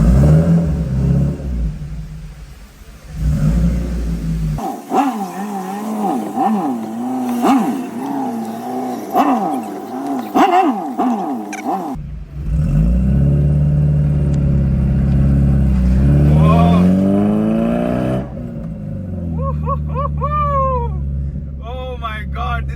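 A modified, lowered Honda City drives and accelerates on the road, its engine droning and revving in rising and falling sweeps for a long stretch, with voices heard over it at times.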